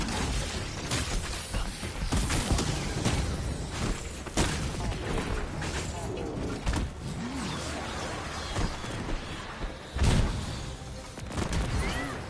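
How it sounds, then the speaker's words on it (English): Explosions in the video game Marvel's Avengers burst repeatedly amid dense, loud combat noise, with heavy booms and sharp pops coming in irregular clusters throughout, the strongest blast landing near the end. "Just all these explosions that we know he would survive."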